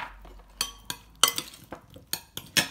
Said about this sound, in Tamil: இதை வந்து நம்ம சின்ன க்யூப்ஸாக கட் பண்ணிக்கலாம் இந்த சைஸ்க்கு.